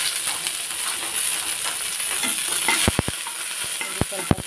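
Ginger and coriander leaves frying in a pan for chicken sukka, a steady close sizzle and hiss with a few sharp clinks of a spoon against the pan near the end.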